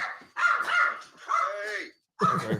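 Dogs bark in a room during a sports betting talk show, giving several close, loud, tonal barks and yips in bursts with short pauses between.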